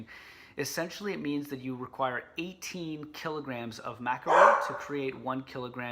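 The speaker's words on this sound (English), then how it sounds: "sorry, that's my dog barking." Dog barking at home, several sharp barks breaking through and alternating with a close voice talking steadily in the foreground.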